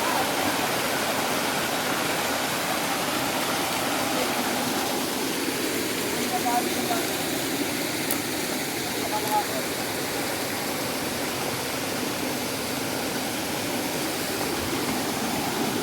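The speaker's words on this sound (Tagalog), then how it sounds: "Ay, waterfalls yan." Waterfalls on the Agos River in General Nakar give a steady, broad rush of falling water that continues unbroken throughout, with faint voices occasionally underneath.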